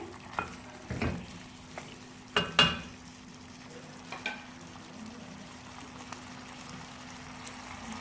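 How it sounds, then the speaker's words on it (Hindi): Half a cup of water is poured into a hot pan of chicken jalfrezi with vegetables, giving a few sharp sizzling bursts and stirring clatters, then a quieter simmering hiss. "साथ ही हम थोड़ा सा इसमें पानी शामिल करेंगे, 1/2 कप, क्योंकि हमें थोड़ी सी ग्रेवी चाहिए।"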